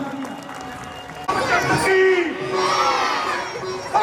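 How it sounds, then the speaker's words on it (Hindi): A Ramlila audience at a staged performance bursts into loud crowd noise, cheering and shouting with applause after a brief quieter stretch, sustained and close, with voices mixed in. "जोरदार तालियां भाई वालियो सुग्रीव के लिए"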